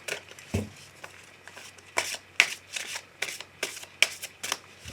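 Oracle cards are shuffled for a reading in a quick rhythmic series of crisp riffling bursts, close and clear with no talking.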